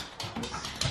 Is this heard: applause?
no